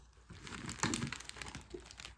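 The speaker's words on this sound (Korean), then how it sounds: "거대진 초코롤 한번 뜯어보도록 할게요" The plastic wrapper of a giant Pokémon chocolate roll cake crinkles and tears close up, with a burst of crackling rustles in the middle and softer scattered crinkles around it.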